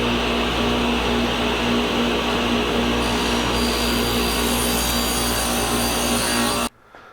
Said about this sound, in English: Let's turn the old dust collection system on.